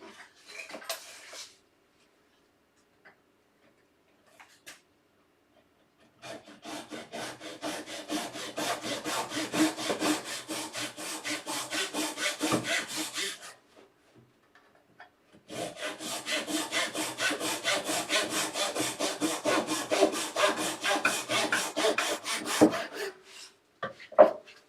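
A hand saw trims the top off a wooden keepsake box in two long bursts of steady back-and-forth rasping strokes, close and fairly loud, separated by a quiet pause, with a few faint knocks before and after.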